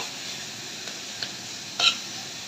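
White radish fry being stirred in an uncovered pan, a soft continuous sizzle with a few faint scrapes and one brief louder clink of the utensil, no voices.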